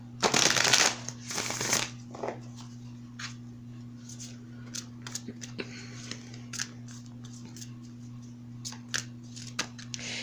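Spirit message cards being shuffled, a loud brisk riffle of cards up close at the start, followed by scattered light taps and handling clicks over a faint steady hum.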